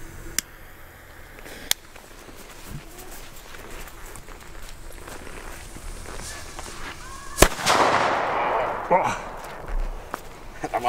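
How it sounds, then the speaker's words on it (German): A Funke C-Böller firecracker goes off in a single sharp, loud blast, followed by a crackling decay. People talk and shuffle about before the bang. "zum Schluss als Schmankerl ein C-Böller von Funke."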